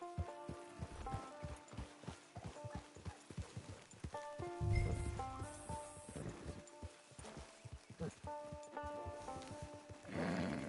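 Hooves clip-clop at a steady walking rhythm, close by, from a horse in Red Dead Redemption 2, with game music and occasional effects layered over the footsteps.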